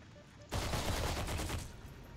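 Sniper gunfire in the online shooter Heroes & Generals: after half a second of near quiet, a loud burst of shots erupts, then rattles on in rapid pulses before easing off.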